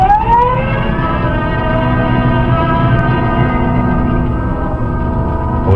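A police car siren in a radio drama wails steadily with rising and falling tones, loud and continuous without a break.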